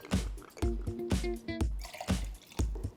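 Plantation 3-Star rum and pineapple juice are poured into a cocktail shaker, heard as close, quiet glugging and dripping splashes in short bursts.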